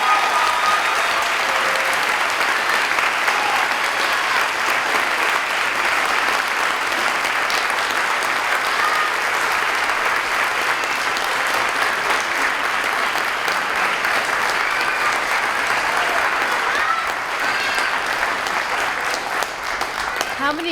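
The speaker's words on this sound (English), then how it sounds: "I think they deserve another round of applause" A large audience applauds steadily at a community college academic and leadership awards convocation, dense loud clapping sustained for about twenty seconds, with a voice faintly audible underneath.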